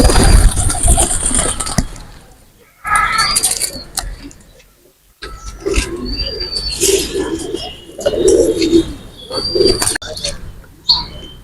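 Pakistani fancy pigeons such as Prince and Dabla Kamagar, Teddy and Rampuri breeds coo and chirp nearby in a loft, with bursts of wing flapping and rustling. A voice talks at times over the birds.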